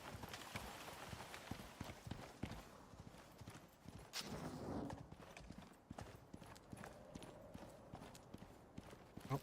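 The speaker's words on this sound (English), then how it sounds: "there's my other horse." Horse hooves clip-clop steadily in the alien-planet survival game Icarus, a running rhythm of sharp, close hoofbeats with faint ambient game sound behind and no talk.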